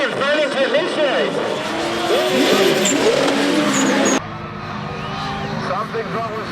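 Drift car in a drifting competition revving hard and sliding through a failed initiation, engine notes rising and falling with tire squeal, loud and continuous, with a commentator talking over it throughout.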